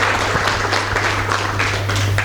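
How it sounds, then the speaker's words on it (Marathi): An audience applauding at the prize ceremony of the Mangalwedha Kabutar Kesari pigeon competition, a steady, dense wash of clapping that holds evenly for the whole moment with a low hum beneath. "एकदा जोरदार सगळ्यांनी टाळ्या वाजवायच्या"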